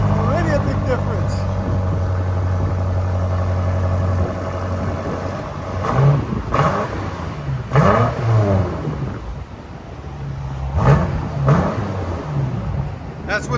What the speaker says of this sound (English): 2020 BMW M5 with a resonator delete.